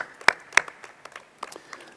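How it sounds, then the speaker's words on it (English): Scattered audience applause at a state government funding announcement, a couple of sharp close claps followed by lighter, sparse clapping fading quickly, fairly quiet overall. "this deserves another round of applause for sure"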